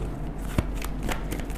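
Tarot cards shuffled by hand during a Major Arcana reading, a short soft riffling with light flicks and one slightly sharper tap, close and quiet.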